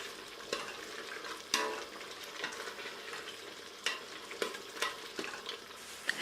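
A spoon stirs gizdodo sauce of gizzards and plantain in a pot, seasoned with chicken stock cubes. Steady soft sizzling runs throughout, broken by a few sharp scrapes and knocks against the pot.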